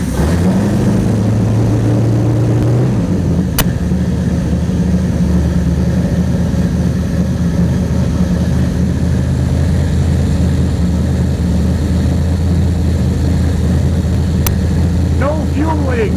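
A small engine fitted with an Agostini carburetor turns over, catches and settles into a steady, loud running drone that carries on without pause, with one or two sharp clicks along the way.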